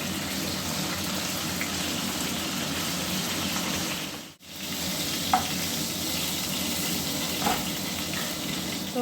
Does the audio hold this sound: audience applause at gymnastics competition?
no